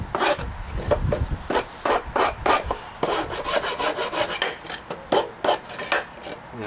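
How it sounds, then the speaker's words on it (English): Hand rasp filing the edges of wood trim, with close, loud, rhythmic scraping strokes repeated steadily with short gaps between them. "I can take my rasp"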